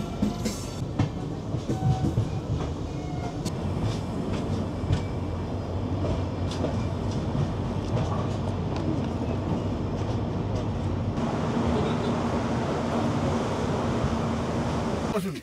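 A Vivek Express train rolling along the rails, heard from on board as a steady loud rumble with faint rhythmic clatter lasting throughout.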